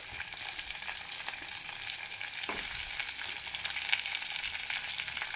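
Chopped tomatoes frying in a pan for a Kannada greens-and-lentil dish, a steady broadband sizzle running the whole time with occasional stirring scrapes, close and even, no talk.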